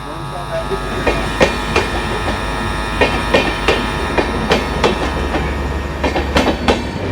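A train rolls in with rhythmic clanking wheel clacks over the rails, loud and close, with a steady rumble underneath.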